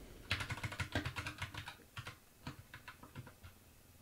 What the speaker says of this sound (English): You do this by typing in xsetRoot with the flag name and then typing in what you want to display.